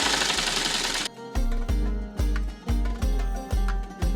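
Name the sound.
sewing machine stitching a blouse sleeve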